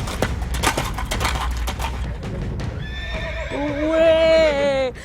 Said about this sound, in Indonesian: Jadi memang kuda-kuda liar ini di luar perkiraan saya kecepatannya